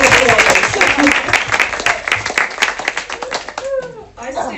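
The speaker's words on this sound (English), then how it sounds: "give us a big round of applause" An audience at a heart research seminar applauds, steady clapping filling the room for several seconds before tapering off, with voices audible near the end.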